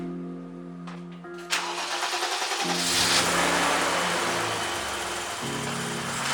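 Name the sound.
old BMW engine running after valve adjustment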